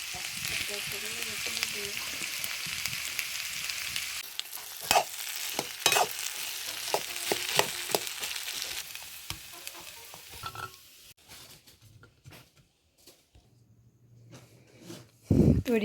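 Beguni and onion fritters frying in hot oil for an iftar meal, a steady loud sizzle with stirring clatter and occasional clinks, fading to quieter bubbling toward the end.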